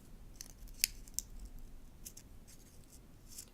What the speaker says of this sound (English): I'm using my scissors to curl those petals out